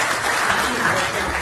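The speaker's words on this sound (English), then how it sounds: "give him a warm hand and a big applause" Warm applause from a forum audience for a team, a dense even wash of many hands clapping at steady volume, with faint voices underneath.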